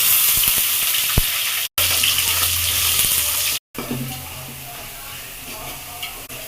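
Oil crackles and sizzles loudly and steadily in a hot pan as chopped garlic fries with curry leaves for fish curry, broken by two brief dropouts, with faint stirring scrapes underneath.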